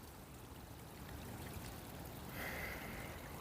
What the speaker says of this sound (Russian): Вот такие ручейки